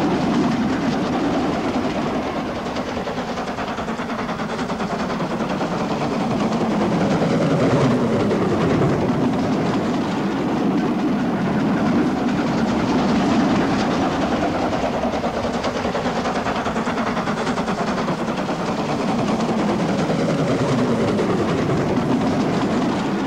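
Train hauled by two Caledonian Pickersgill bogie steam locomotives running from Perth toward Aviemore, a steady loud rolling rumble of wheels and carriages with rhythmic clatter, continuous throughout.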